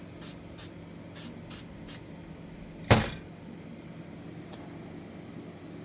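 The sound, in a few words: sealer spray applied to painted wooden duck head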